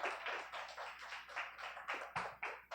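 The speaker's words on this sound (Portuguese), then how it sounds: "Você pode aplaudir o Senhor" A church congregation applauding during a service, a faint, distant patter of many hands clapping in an uneven rhythm, with a few louder claps standing out.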